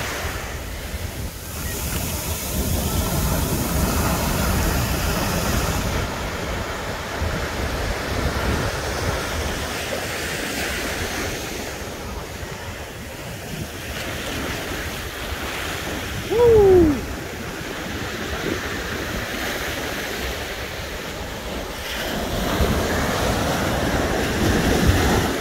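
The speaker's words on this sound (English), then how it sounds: "Pacific Ocean." Pacific Ocean surf washes steadily onto the sand at Venice Beach, California, a continuous roar of breaking waves mixed with gusty wind buffeting the microphone.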